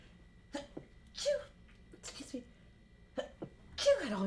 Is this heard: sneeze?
yes